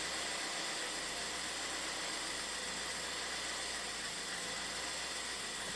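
A Ford EcoBoost engine with a surging, stalling fault settles back to idle, giving a steady broadband hum and hiss at moderate distance, heard alone without speech.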